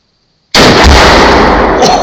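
A 3.5 pound tannerite charge detonates inside a refrigerator outdoors, a sudden massive blast breaking out of silence and followed by a loud, rolling roar of debris and echo.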